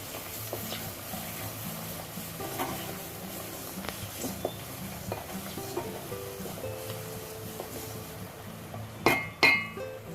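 Cut pieces of aloe vera are stirred in a bowl, producing soft repeated scraping and light clinks of a utensil against the bowl in a loose rhythm, close by, ending with a couple of louder knocks.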